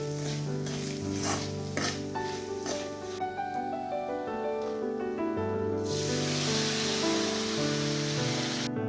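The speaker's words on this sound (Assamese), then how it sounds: "দি দিম ভেদাইলতা আৰু আলু যিখিনি সিজাই থোৱা আছিলে।" Bhedailata and boiled potatoes tipped into onions fried deep red-brown, giving a steady sizzle with stirring scrapes that swells into a louder, brighter hiss partway through, over background music.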